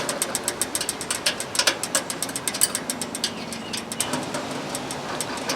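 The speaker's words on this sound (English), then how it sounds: "then tighten up all the screws." Screws tightened on a stainless steel tent stove, a rapid close-up run of clicking ratchet strokes in uneven bursts with slight metallic ringing.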